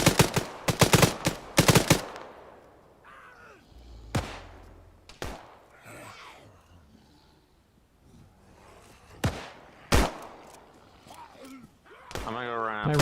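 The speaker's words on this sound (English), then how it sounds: "Do not waste a single bullet, Rod." Gunfire in the video game Arma: a rapid burst of loud automatic shots at the start, then scattered single and double shots at varied distances, with quieter background activity and a player's voice in between.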